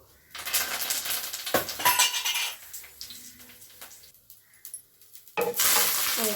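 Chana dal, urad dal, mustard seeds, cumin and curry leaves tossed into hot oil, bursts of loud sizzling with spoon scrapes and clinks against the pan, fading then flaring again at the end.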